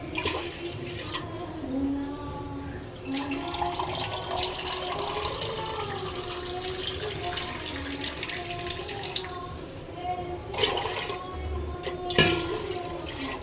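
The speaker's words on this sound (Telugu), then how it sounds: "6 గ్లాసులు వాటర్ పోసుకోండి." Water poured from a glass into a deep bowl, six glassfuls, making a steady splashing, trickling stream that runs close and fairly loud throughout with only brief breaks between pours.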